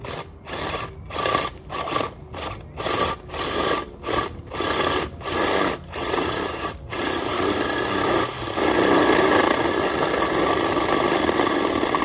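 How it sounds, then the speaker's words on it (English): A drill bores a hole for a duct in a series of short bursts with brief pauses, then runs continuously for the last few seconds, gritty and close. "use this bad boy to drill it out"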